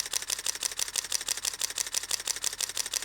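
A rapid burst of Pentax K5 DSLR shutter clicks, about seven per second, steady and even, close and fairly quiet with no voices.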